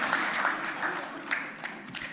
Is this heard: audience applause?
yes